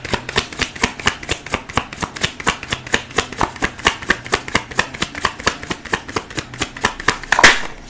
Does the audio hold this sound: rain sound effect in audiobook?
no